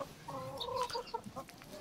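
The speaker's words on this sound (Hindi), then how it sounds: "ये मुर्गे देखो इनके।" Hill chickens and roosters cluck and call in a farmyard in Pagna, Bageshwar, Uttarakhand. Several close, overlapping clucks and short calls run steadily through a brief stretch.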